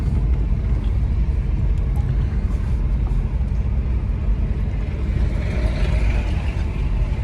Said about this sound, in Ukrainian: Зараз подивимося, що там дядь Валера як дає газ в пол